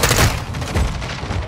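Rapid, loud gunfire in Call of Duty: Modern Warfare, a close burst of overlapping shots and booms with a SWAT team fight on the streets of Las Almas.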